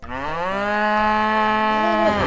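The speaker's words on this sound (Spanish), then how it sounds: "¡Vaca!" A single cow gives one long, loud, sustained moo lasting about two seconds, close and clear with nothing else heard.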